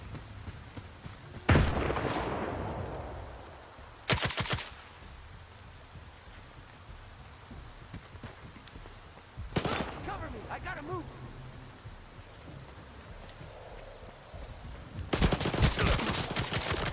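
Gunfire in the shooter S.T.A.L.K.E.R. 2: several sharp, loud bursts of shots spaced a few seconds apart, one longer volley near the end, over a rain-like background hiss with someone talking between the shots.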